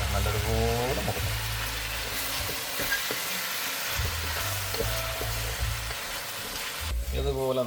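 Chicken curry ingredients fry and brown in a pan with a steady, loud sizzle that runs throughout, joined by occasional stirring scrapes and a low background hum.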